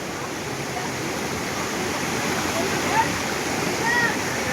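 Steady rushing water pours down from the slope above a villa during rain, a continuous broadband wash that stays close and even throughout, with slight swells near the end.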